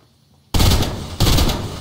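Gunfire in the video game Fortnite: two loud bursts of shots cutting in after a brief quiet, the second following about half a second after the first ends, with no talk.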